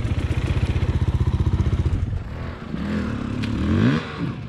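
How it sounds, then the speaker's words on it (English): A dirt bike engine on a single-track trail revs hard in a rapid, pulsing throttle burst, then drops to a rougher, uneven running note with a rising rev near the end, loud and close. "Rev it out."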